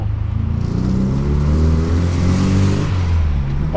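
A Chevrolet Opala Comodoro's six-cylinder engine, lowered with a new exhaust, revs from inside the cabin, its loud droning pitch climbing and settling over a few seconds, with no voices.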